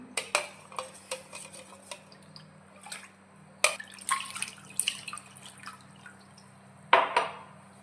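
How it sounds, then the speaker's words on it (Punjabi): Glass dishes being rinsed in clean water produce a series of sharp clinks and knocks, with splashes and dripping between them, close and alone without talk. "ਆਪਾਂ ਇਹਨਾਂ ਨੂੰ ਸਾਫ ਪਾਣੀ ਦੇ ਥਾਈ ਸਾਫ ਕਰ ਲਈਏ"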